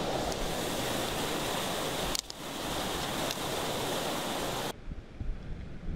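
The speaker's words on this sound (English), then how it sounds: "A tiny, tiny brook" A tiny brook flowing during opening-day trout fishing in Connecticut, a steady broadband rush of water close by that holds for almost five seconds before dropping off abruptly.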